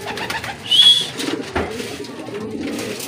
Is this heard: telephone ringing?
no